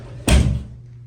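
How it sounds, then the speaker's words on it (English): A hotel bathroom door at the Hyatt Regency Tulsa Downtown is pushed shut with a single solid thud, close and loud, followed by a brief fading room echo. "I'm gonna come in here and shut the door actually."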